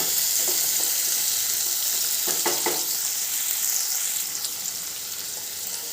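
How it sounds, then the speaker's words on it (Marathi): Oil sizzles steadily in a pan while coarsely cut onions and a chili fry for homemade matar paneer, a dense continuous hiss with a few soft stirring knocks partway through, heard up close with no talking. "त्याच तेलामध्ये फ्राय करायचे मस्त असे फ्राय होऊ द्यायचे"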